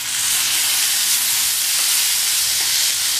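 Chopped tomatoes hitting hot oil in a frying masala for a Tamil potato gravy, giving a loud, steady, even sizzle that continues unbroken throughout with no talk.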